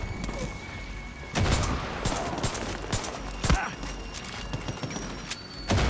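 Gunshots fired with explosive TNT rounds in Far Cry 6, a few sharp loud bangs spaced irregularly over a busy game background with faint hoof-like clatter.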